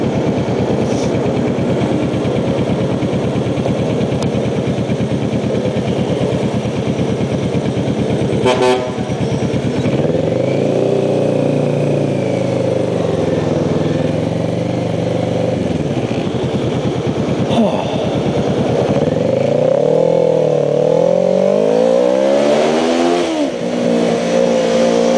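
A street bike ridden like a superbike, its engine revving and accelerating up close, with pitch sweeping up and down through gear changes and a brief horn toot midway; continuous and loud with no talking.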